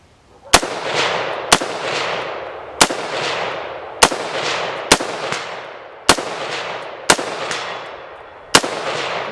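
Eight sharp firearm shots ring out at a shooting range, evenly spaced about a second apart, each loud crack followed by a broad decaying echo, with no voices over them.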